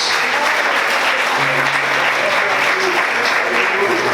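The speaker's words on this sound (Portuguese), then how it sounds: "Aplauda o Senhor, queridos." Loud, dense applause fills a church service, a congregation clapping for the Lord continuously and evenly throughout with a broad crowd roar.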